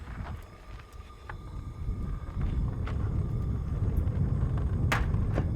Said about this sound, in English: you can really hear the flames moving with this wind blowing